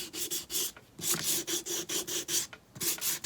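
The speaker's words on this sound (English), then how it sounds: "I'm just using my little finger sander" Small finger sander distressing painted 2x4 wood blocks, giving a close, loud raspy buzz in short back-and-forth strokes that pulse roughly twice a second with brief pauses between passes.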